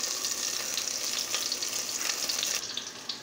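Chicken sizzling and frying in a pan for kuzhi mandi, a steady close crackle of hot oil with faint stirring, continuous and fairly loud throughout with no voices.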